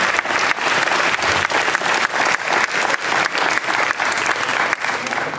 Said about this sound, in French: Je voudrais que vous applaudissiez Franck Mesdag et son équipe de bénévoles sur la brèche pendant 4 jours à plein régime.